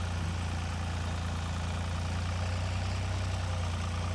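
A large diesel tractor engine idles steadily with a deep, constant low rumble and no change in pace throughout.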